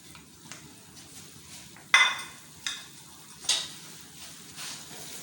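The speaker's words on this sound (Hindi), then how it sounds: "मिक्स करेंगे अच्छी तरह से, मसाले को भून लेंगे।" Ground red chilli powder, garam masala and roasted crushed cumin being stirred and fried in a pan for dal, with a few distinct spoon-on-pan scrapes and clinks over a soft background.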